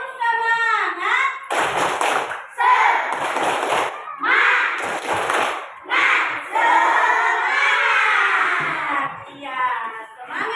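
Schoolchildren in a classroom do the tepuk semangat clapping chant, loud group chanting alternating with bursts of rhythmic unison clapping.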